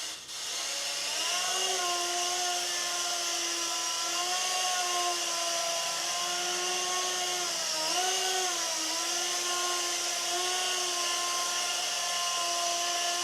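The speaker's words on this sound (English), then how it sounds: "As you can see, it'll hover really well. It's very stable in the air, and it's goes along quite quickly." A Samurai mini RC helicopter hovers and flies nearby with a continuous high electric whine whose pitch dips and rises slightly as it moves, and no one speaks.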